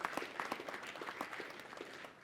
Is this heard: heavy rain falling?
no